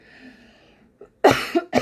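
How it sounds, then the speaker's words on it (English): A person coughs twice in quick succession, loud and close, after a quiet stretch with faint background murmur. "I had to just pause for a minute so I can cough"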